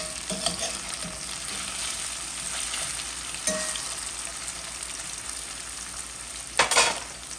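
Fish sizzles steadily in a frying pan after being flipped, a continuous close crackle with a few louder spits and pops, including a sharp burst near the end; no one speaks.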